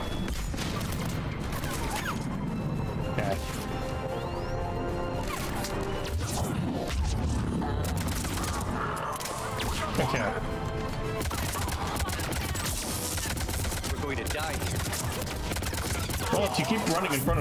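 Gunfire and impacts from combat in the video game Mass Effect 3, with repeated bursts, cracks and crashes in rapid irregular succession throughout, under occasional talk.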